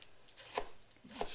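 Cabbage sliced thin by hand with a knife at home, two soft knife chops on a cutting board spaced about half a second apart, quiet and close with no voice.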